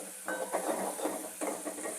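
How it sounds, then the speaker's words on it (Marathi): Homemade black chilies frying in hot oil with cumin and mustard seeds, a continuous close sizzle with bursts of crackling and stirring scrapes in the pan. "मस्त त्यांना पण असा तळून घेते चांगलं."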